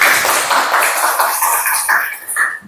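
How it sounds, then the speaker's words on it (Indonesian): Classroom applause from students for a classmate called to the front, a brisk burst of many hands clapping close by that continues, then fades toward the end. "Tepuk tangan buat Dinda."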